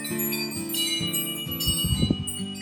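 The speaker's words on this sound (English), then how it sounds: "You can hear my wind chimes going at it." Metal chimes ring continuously, overlapping tones shimmering and sustaining, with a brief cluster of lower clanks as they knock together.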